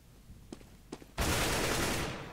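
Gunfire in CS:GO: a couple of faint thuds, then a sudden loud, sustained burst of rapid shots that gradually tails off, close and alone without speech.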